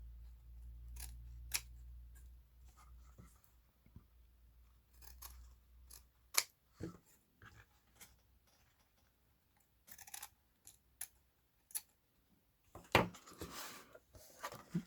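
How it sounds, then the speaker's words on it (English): Scissors snip the corners off a bulky handmade junk journal, a series of short, crisp cuts scattered over quiet moments, with a flurry of closer rustling and snips near the end. "I'm just going to lop a bit off the corners."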